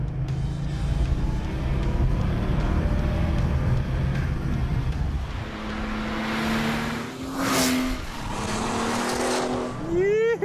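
A Porsche 911 Turbo accelerates hard, its engine note climbing steadily in pitch over a broad roar of road and wind noise, loud and close throughout.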